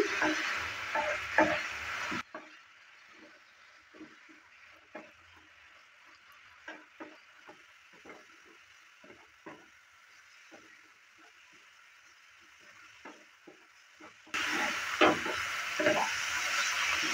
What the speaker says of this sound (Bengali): গরম মশলাটা দেওয়ার পর ভালো করে আবারও মিক্স করে নিচ্ছি।